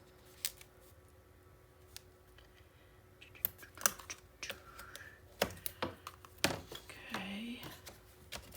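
Adhesive tape is handled and curled at close range: irregular sharp crinkles, taps and sticky peeling rustles, sparse at first and then denser, with a short squeaky stretch near the end.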